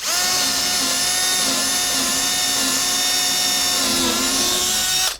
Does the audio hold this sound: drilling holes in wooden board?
yes